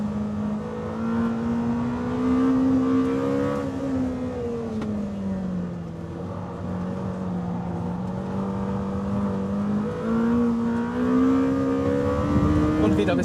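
Lamborghini Temerario engine revving hard toward 10,000 rpm, a loud, sustained high-pitched wail that rises and falls continuously across the whole stretch, with a voice talking over it.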